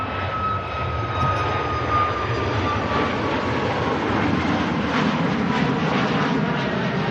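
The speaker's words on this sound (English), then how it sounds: "Ryanair 737 Max heading off to Shannon over in the Republic of Ireland." A Ryanair Boeing 737 Max jet departs Manchester Airport with a steady, loud engine roar that holds throughout, broadband and sustained with a faint high whine riding on top.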